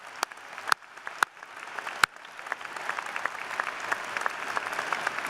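Audience applause at a university commencement ceremony, a steady wash of clapping that builds in density and stays fairly loud, with a few sharp louder claps standing out near the start.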